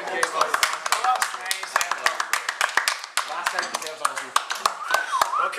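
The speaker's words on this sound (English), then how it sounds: "a round of applause for last night" A small group at a stag-do clapping sparsely, with distinct individual claps scattered irregularly while people keep talking and laughing over them.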